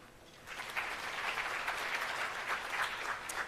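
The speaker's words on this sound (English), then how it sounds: "let's give them another big round of applause" A crowd applauds at the launch of 4IR centres of excellence, a dense, even roar of clapping that swells after a brief quieter start and holds steadily.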